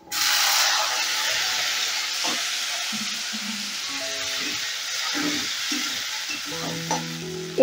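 Tomato tipped into a pan of onions frying for a Bengali mustard fish curry, hissing in a loud steady sizzle with stirring scrapes and clinks running through it.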